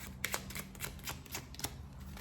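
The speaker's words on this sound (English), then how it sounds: "A couple of cuts here. Also some shuffles." Playing cards are shuffled in a few quick, soft riffles and cuts, with light papery flicks close by in a quiet room.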